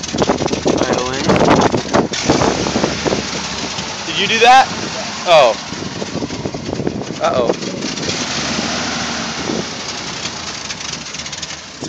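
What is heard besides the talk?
Jeep engine idling after starting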